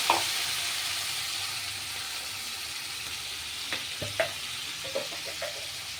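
Spice paste sizzles steadily in a hot pan, giving a continuous frying hiss with a few sharp crackles and stirring clinks toward the end, with no talk.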